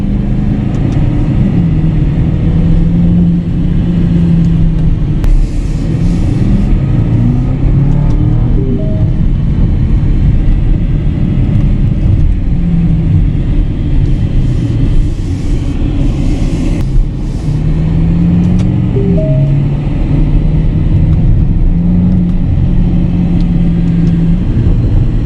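A 2021 Aston Martin DBX, heard from inside while driving, gives a steady close engine rumble that swells under acceleration in two separate surges, with no voices.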